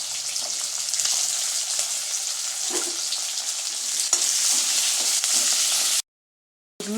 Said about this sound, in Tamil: கடுகு பொரிஞ்ச உடனே லைட்டாக கொஞ்சோண்டு வெந்தயம் சேர்த்துக்கலாம்.